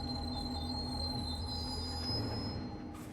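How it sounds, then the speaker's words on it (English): Squealing steel wheels on a luxury passenger train braking to a stop, with a sustained high-pitched screech and overtones over a low rumble, close and continuous, easing off toward the end. "our train comes to a stop"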